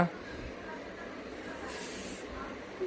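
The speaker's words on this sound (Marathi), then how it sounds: "आता बॉडी स्प्रे मारते बघा" Body spray hisses from an aerosol can in one short, faint burst, a soft airy spritz against quiet room noise.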